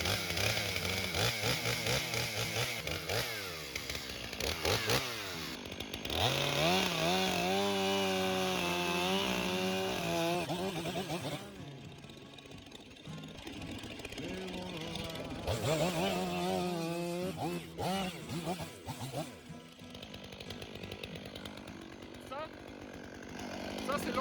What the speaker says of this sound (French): Et maintenant on va faire le trait de scie.